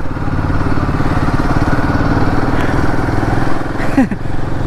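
A Royal Enfield Himalayan 450 motorcycle engine runs steadily and loudly at close range after the bike has fallen over, with a brief scrape near the end.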